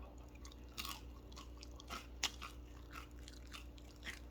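Crisp air-fried cube fries being bitten and chewed up close, several quiet crunches scattered over a few seconds against a low steady background hum, with no talking.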